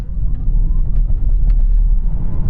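A Tesla Model 3 Performance launches from a standstill in insane mode with normal four-wheel drive, giving a loud, steady low rumble of tyres and road noise with a faint motor whine, close and continuous.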